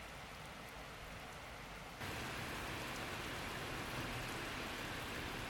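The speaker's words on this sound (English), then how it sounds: "Oh yeah, and it started raining. The rain was so relaxing." Steady rain falls at night as a dense, even hiss that swells louder partway through and then continues unbroken, with no voices.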